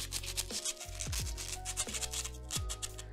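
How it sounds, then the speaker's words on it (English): An iron nail rubbed with sandpaper, its exterior sanded down: repeated rough scratching strokes in a steady back-and-forth rhythm, close and fairly quiet, with a faint background hum. "we're going to take an iron nail and some sandpaper and just kind of sand off the exterior of the nail"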